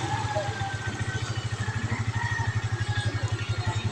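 A Suzuki Smash 115 motorcycle engine with a shorted voltage regulator runs close by with a steady, throbbing putter and a slightly uneven, misfiring beat.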